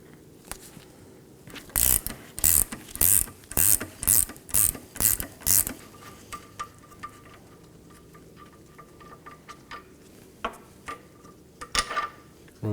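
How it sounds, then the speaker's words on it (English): Ratchet wrench clicking rapidly in a burst of loud strokes while loosening and removing a nut on a 2015-2023 Nissan Maxima rear shock absorber, then sparse quieter metallic clicks and tool handling. "Now break it loose and remove it."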